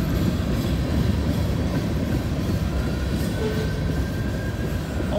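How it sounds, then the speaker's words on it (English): A CSX freight train with distributed power units rumbles past a road crossing in Walton, Kentucky, close and loud, with continuous low wheel and rail rumble and a faint thin squeal over it. "The train is kind of messing things up for the firefighters."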